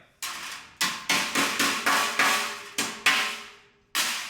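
A hammer strikes the rusty underlip of a 1962 Ford Galaxie quarter panel to flatten the sheet metal, landing about nine sharp, ringing metallic blows at an uneven rhythm, close and fairly loud, with no speech.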